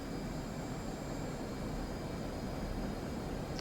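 An F/A-18C Hornet jet engine at full throttle on a supercarrier deck in the DCS flight simulator gives a loud, steady, broadband roar that holds unbroken throughout, with no talking.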